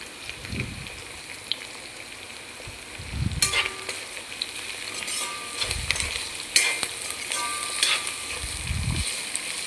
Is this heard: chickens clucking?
no